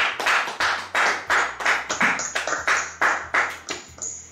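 Rhythmic group clapping at a church gathering, applause for Nicolas: about fourteen sharp, evenly spaced claps ringing close and loud, each decaying quickly, with a faint sustained tone underneath.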